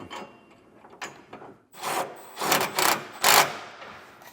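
A 7/32 wrench tightens the bolts on rear air helper springs for a 2022 Ford F-350 Super Duty. Soft scrapes are followed by several close, rasping ratchet-like bursts of metal turning, with no voice.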